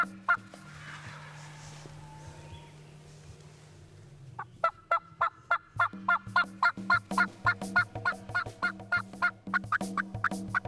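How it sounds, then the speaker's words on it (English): During a turkey hunt, a wild turkey gobbles faintly at first, then a rapid series of loud, sharp yelps and clucks builds, the calls coming steadily closer and louder. "these birds started to break, and you could tell that gobble was getting closer"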